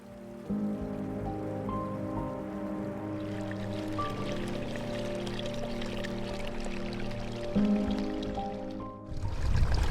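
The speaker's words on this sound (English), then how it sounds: "A creek running through a camp" A creek runs past a camp in California, a steady, close rushing and babbling of water that holds throughout with no voices.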